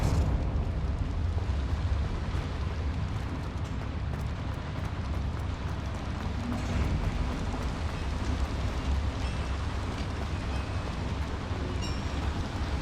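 Spell explosions in the video game Hogwarts Legacy form a continuous dense crackling roar of bursts and booms, steady and moderately loud throughout, with no talk.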